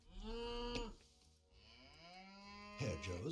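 Cattle in a strategy video game moo clearly, one long low moo followed by a second rising moo, with a short clatter of game sounds at the end.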